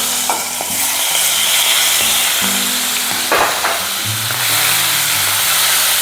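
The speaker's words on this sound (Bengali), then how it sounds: "তেলটা ভালো মতো গরম হয়ে গেলে এর মধ্যে চিংড়ি মাছগুলো ভেজে নেব।" Hot mustard oil sizzles loudly and continuously as shrimp fry, with occasional clatter of stirring in the pan.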